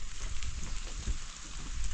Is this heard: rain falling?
yes